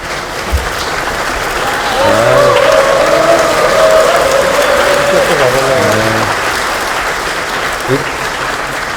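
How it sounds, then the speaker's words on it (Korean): Loud sustained applause from a party caucus audience, dense clapping throughout while a voice speaks over it in the middle. "박수 한 번만 다시."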